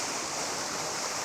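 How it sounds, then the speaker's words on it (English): Water rushes steadily behind shields of ice at a winter waterfall in Shenandoah National Park, a loud, dense, continuous roar with no voices. "Those ice shields that the water is flowing behind."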